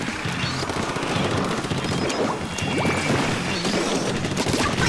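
Video-game gunfire with sniper shots, sharp loud cracks and bursts of automatic fire layered over constant battle noise, close and dense for the whole stretch, no voices.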